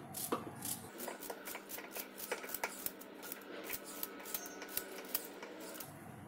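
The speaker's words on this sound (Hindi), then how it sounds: "सबसे पहले हम खीरों के पीस कर लेंगे पतले पतले" A knife slices cucumber into thin pieces on a board, giving quick, steady, close chopping taps in an even rhythm for several seconds, with no voices.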